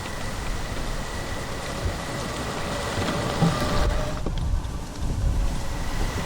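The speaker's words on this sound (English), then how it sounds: "Rainy, misty day" Steady rain falls on a misty day on a farm, a constant soft wash of drops with faint distant rumbles beneath and no voices.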